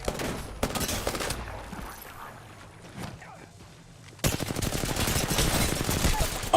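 Gunfire in a video game: rapid bursts of automatic shots crackle in dense clusters, fade to quieter scattered noise, then erupt again into sustained loud firing.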